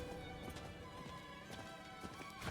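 A horse galloping in Diablo 4, with rapid clip-clop hoofbeats over a dense, loud game soundscape.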